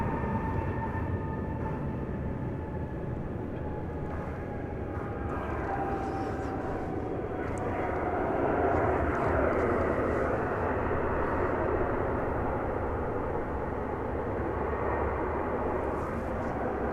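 McDonnell Douglas MD-11 cargo jet at DFW Airport, its engines a steady broad roar with a faint descending whine, swelling slightly midway and holding loud throughout, with a voice talking over it.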